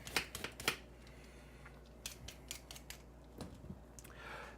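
A knife cutting the tip and end off a carrot, producing a few quiet, crisp chopping clicks in short clusters against a soft room background, faint and close.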